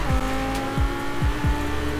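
Lamborghini engine in Forza Horizon 4 drones steadily while several rising-and-falling revs and gear shifts sweep past, with tire noise underneath, loud and close without talk.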